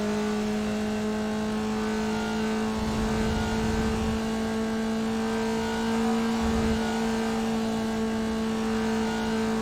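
Race car engine at Laguna Seca droning steadily with strong harmonic tones, briefly dipping and rising through downshifts before pulling back into the power band; loud, continuous and close, with no talk.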